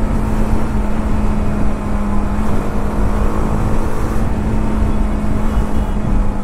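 A BMW G 310 RR motorcycle engine pulls steadily while riding in fifth gear, a loud continuous drone with a strong steady tone and constant wind rush, with no talk over it.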